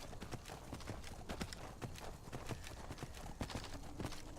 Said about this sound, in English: I will leave you in the dust by mounting my horse